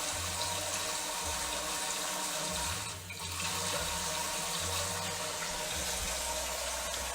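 Water runs steadily from a kitchen tap over a vegetable being rinsed of dirt and grit, a continuous close rushing stream with a brief dip midway and no talking.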